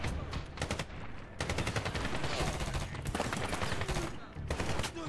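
Gunfire in the 2010 Medal of Honor video game: dense bursts of shots, some rapid like automatic fire, loud and continuous across the clip with brief gaps, no talk.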